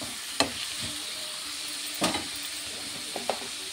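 Tomatoes fry in a pan for paneer masala curry with a steady, close sizzle and a few sharp stirring scrapes and taps.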